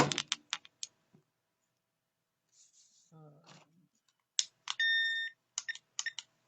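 A digital timer being set for two minutes: quick clicks of button presses, then a short electronic beep, followed by more rapid presses, all close and clear in a quiet room.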